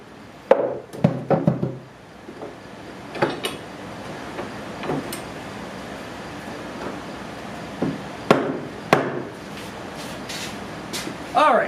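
Wooden beehive kit parts are tapped into place in a few short clusters of light knocks, with quiet gaps between them.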